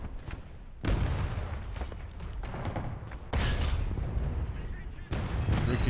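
Video game gunshots ricocheting off a metal plate: loud booming shots land in bursts with sharp onsets and rumbling tails, while a voice talks at times.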